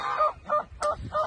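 Farm birds kept in a fenced bird enclosure with turkeys, geese, ducks and peacocks call in a run of four honking cries, loud and close with a short pause between each.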